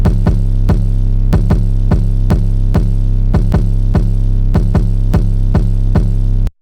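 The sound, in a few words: bouncy 808 bass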